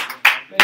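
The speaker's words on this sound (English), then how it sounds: "let's give a round of applause for our volunteers and for our cookie" A small group of classroom volunteers gets a short, brisk burst of clapping, two quick bursts close by with a pause between them.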